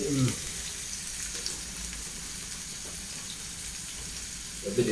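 Salted onions sauté in a pan with a soft, continuous frying hiss, steady and moderately close, with brief low thumps or voices at the very start and end.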